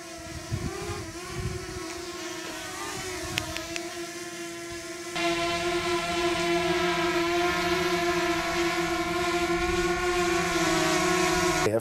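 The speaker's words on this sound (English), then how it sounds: "I thought the Mini 2 was gonna be louder with those older props on there, but it was still pretty quiet." A DJI Mini 2 drone flying with older propellers gives a steady, fairly quiet motor whine with stable tonal harmonics, holding constant and growing slightly louder partway through.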